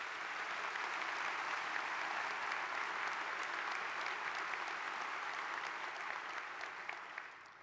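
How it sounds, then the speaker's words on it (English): A large audience at a university presidential inauguration applauds, a dense continuous wash of clapping that holds evenly throughout and tapers slightly at the close, with no talk over it. "Let's give them a round of applause."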